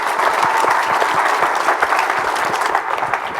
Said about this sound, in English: a big round of applause for our entire panel